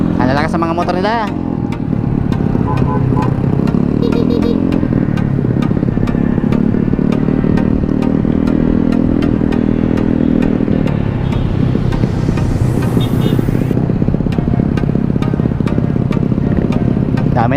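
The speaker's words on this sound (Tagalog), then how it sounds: "Ang lalakas sa mga motor nila." Several motorcycles at a riding safety festival rev loudly and rumble nearby. The engines rise and fall with clattering mechanical noise, and voices talk over the din.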